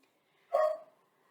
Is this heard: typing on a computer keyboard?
no